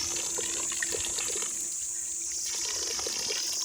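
Cold spring water runs steadily from a pipe on a hillside, a continuous close trickle and splash with a soft bright hiss, no voices.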